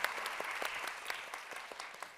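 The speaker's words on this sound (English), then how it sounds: "give, and maybe, hang on, before you stand up, a first round of applause for all of those that I've just mentioned" Audience applause at a UNESCO International Mother Languages Day closing session, a brisk, dense clapping from a crowd in a hall, steady at moderate loudness throughout.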